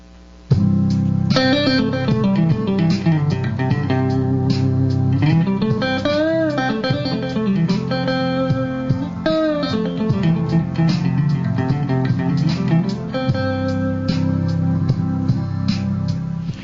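Electric guitar plays quick pentatonic runs over a steady backing chord progression, loud and continuous with no voices.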